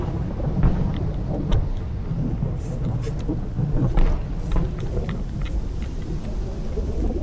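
Heavy rain pours steadily during a flash-flood thunderstorm, with low rumbling thunder rolling underneath throughout, loud and continuous.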